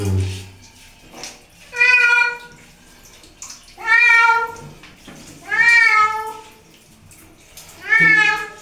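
A house cat meowing during its bath, four long, loud, drawn-out wails at a steady pace, with a little water noise and a person speaking quietly between them.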